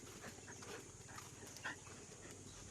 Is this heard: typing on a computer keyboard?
no